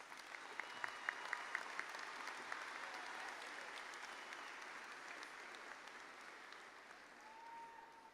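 An MBA graduation ceremony crowd gives graduates sustained, moderately distant applause, a steady even patter with a few sharper individual claps standing out near the start.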